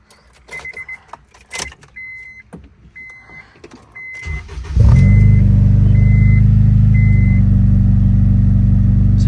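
A Honda DC5 engine cranks with a brief starter whir, then catches and settles into a steady, loud, close idle rumble, preceded by a few light clicks and key jangles.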